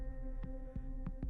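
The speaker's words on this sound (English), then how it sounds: "his heart pounding" Heartbeat sound effect, a steady series of four soft low thumps over a faint sustained hum, close and evenly paced, with no voices.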